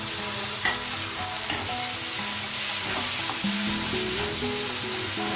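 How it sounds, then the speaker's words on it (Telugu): Broad beans, tomato, coriander and curry leaves are tipped into a pan of fried onions and sizzle loudly and steadily, with scraping stirs and clinks of a spoon against the pan. "మనం చిక్కుడుకాయలు, టమాటా, కొత్తిమీర, కరివేపాకు మొత్తం అన్నీ ఒకేసారి వేసేద్దామండి."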